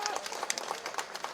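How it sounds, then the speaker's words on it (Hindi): An audience in Bhopal applauds to welcome Madhya Pradesh Chief Minister Mohan Yadav at a sports department event, a dense, steady burst of crowd clapping with a voice faintly underneath. "एक बार जोरदार ताली बजाकर"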